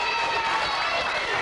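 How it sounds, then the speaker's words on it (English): Children at a fire safety show applaud themselves, a steady wash of clapping and crowd noise filling the short moment. "Give yourself a round of applause"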